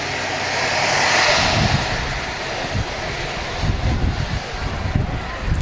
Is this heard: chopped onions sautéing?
no